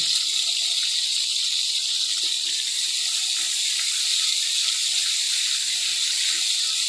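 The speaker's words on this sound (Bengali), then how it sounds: "এবার এই তেলের মধ্যে আমি 2টো শুকনো লঙ্কা ছিঁড়ে দিয়ে দেবো, আর দেব কালো জিরে ফোড়ন।" Dried red chillies torn into hot oil with nigella seeds, a steady loud hiss of sizzling tempering sustained close up with no voices.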